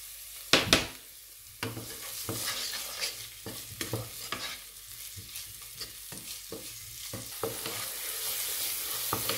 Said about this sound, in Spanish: Y vamos a empezar a sofreír la cebolla. Para que sude mejor, vamos a ir agregándole un poco de sal.